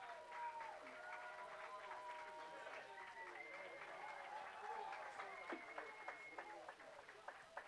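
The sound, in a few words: crowd cheering and applauding at baseball game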